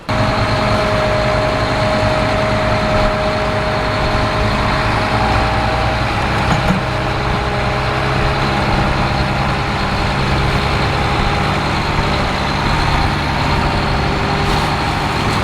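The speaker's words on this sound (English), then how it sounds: "that's how we're able to pull this bigger tractor with a plow with a smaller tractor" A heavy tractor engine runs steadily with a deep, constant rumble, loud and close, with no pauses, as a smaller tractor pulls a bigger tractor with a plow on a rope.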